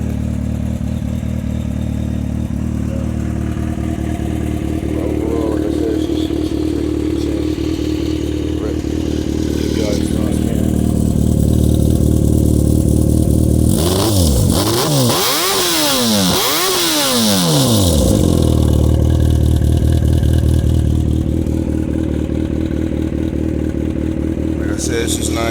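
A 2012 Yamaha FZ6R motorcycle engine idles steadily and then revs hard through several sharp rises and falls in pitch before it settles again. The engine is close and loud, and someone talks over it.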